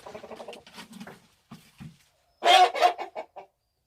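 Hens clucking in a coop, a run of soft clucks followed by a louder, sharper burst of clucking, close by and with no talk.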